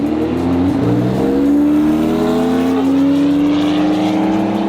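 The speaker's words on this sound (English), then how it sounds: "So we just watched that Supra race that Porsche" A Toyota Supra drag racing a Porsche on a track, turbo engines screaming loud and close with rising revs that dip briefly at a gear change before climbing steadily again.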